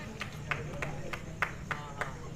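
A few scattered claps at a cricket match ring out lightly under steady commentary talk, spaced irregularly and fairly distant.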